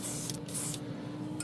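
A portable air compressor drives a small-cup airbrush, giving short bursts of close, steady hissing spray over a constant low motor hum, with brief pauses between bursts.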